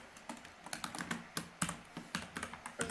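Quick, uneven keystrokes on a computer keyboard clatter close by in a steady run of light taps, quiet and with no voices.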